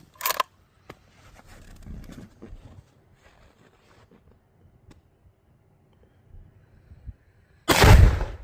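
A Savage .223 rifle fires at a suitcase outdoors: one sharp, loud gunshot at the start, then a quiet stretch of faint rustling, and a second heavy, booming blast near the end.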